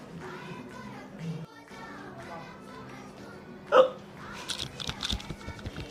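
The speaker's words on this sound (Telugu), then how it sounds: "ఎక్కిళ్ళు వస్తున్నాయా?" A single sharp hiccup from a person at home, standing out briefly amid quiet talk and light laughter.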